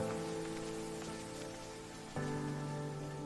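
Steady rain falling as a story sound effect, a dense even patter on a surface with a constant tonal hum beneath, no voices.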